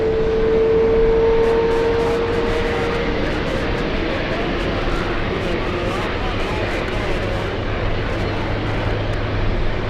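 Delta airliner arriving from Heathrow at JFK airport, a loud steady broadband jet roar holding for the whole stretch with a thin whining tone early on, close and continuous.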